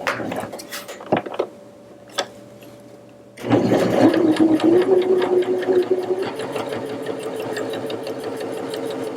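A sewing machine starts up and runs a steady straight edge stitch along folded fabric for a pinked seam finish, its motor humming loudly and evenly after a few quiet handling clicks at the start.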